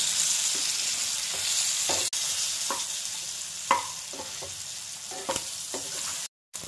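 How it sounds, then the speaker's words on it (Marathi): Red chili powder, garam masala and turmeric are stirred into fried eggplant, tomato and curry leaves in a pan over a constant low sizzle, with repeated spatula scrapes and taps near the mic, no voices. "यातच लाल मिरची पावडर, गरम मसाला, हळद हे सगळं चांगलं मिक्स करून घेऊ"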